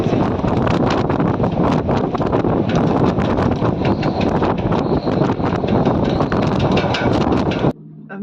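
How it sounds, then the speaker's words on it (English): Strong winter wind of 30 to 40 knots on the Danish coast roars and buffets the microphone in loud, continuous gusts, then cuts off abruptly near the end. "It's been really windy for a long time, and today it's going absolutely nuts."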